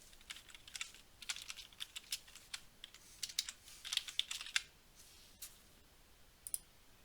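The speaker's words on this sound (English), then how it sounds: "memoir Race to Be Myself by Castor Semenya, suggestions will pop up as I type in the title." A computer keyboard clicks in quick irregular bursts of keystrokes as a book title is typed into a library catalog search, close and crisp, with short pauses between runs and a quiet background.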